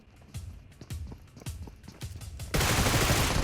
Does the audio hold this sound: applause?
no